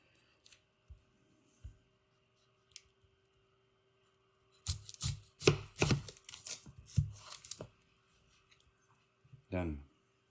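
A sharp knife chops through an onion on a board, a few soft isolated taps followed by a close, crisp cluster of cuts, then a quiet pause and a final rasping slice, with speech around it.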